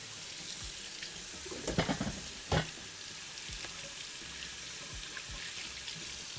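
Bacon-wrapped pork tenderloin sizzling in a brazier pan, a steady hissing fry with a few louder splattering bursts and clatters, close and continuous, with no talk.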